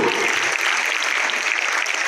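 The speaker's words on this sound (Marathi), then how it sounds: "याच्यासाठी एकदा जोरदार टाळ्या उमजवल्या मित्रांनो" Applause from an audience at a school prize ceremony for a student winning a painting competition, a steady dense patter of many hands lasting a couple of seconds.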